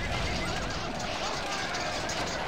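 Cavalry horses in a Waterloo battle video game neigh and gallop amid dense, steady battle noise, with a voice talking over the din.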